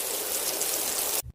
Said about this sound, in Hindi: आज तो बाहर बहुत बारिश हो रही है।